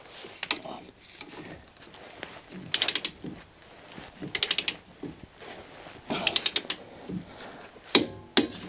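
A ratchet wrench tightening a part on an Alfa Romeo car to 120 Nm, with several quick bursts of rapid clicking between pauses, close and fairly loud, with light handling noise.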